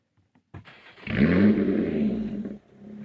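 A Lotus sports car engine bursts to life and revs hard, a loud, throaty roar holding for about a second and a half before dropping back to a rumbling idle.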